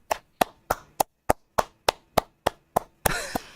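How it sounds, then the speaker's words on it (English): Eleven sharp single hand claps, evenly spaced about a third of a second apart, close and crisp with short room decay, followed by a brief burst of rustling noise at the end. "I'm going to clap."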